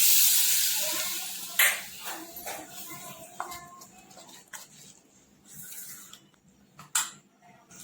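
Hot oil sizzles loudly at first as a tempering is added, then fades, with scattered clinks and scraping of a utensil in a pan.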